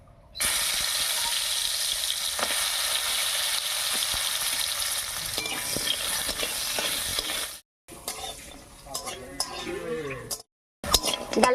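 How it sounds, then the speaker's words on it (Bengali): Lentil dumplings (bori) coated in turmeric fry in hot mustard oil with a loud, continuous crackling sizzle, broken by short gaps, while a spoon stirs and clinks against the pan. "বড়িগুলো বেশ লাল লাল করে ভেজে নিয়েছি"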